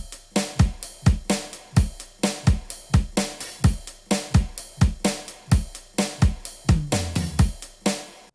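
Electronic drum beat of punchy toms and snare hits in a steady, driving rhythm, layered with a bright synth arpeggio, loud and alone with no voices.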